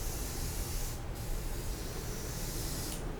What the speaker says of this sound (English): let's try spraying on here.